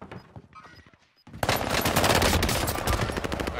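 Rapid bursts of automatic gunfire in a video game shooter, loud and dense, erupting after a quieter stretch and continuing steadily to the end.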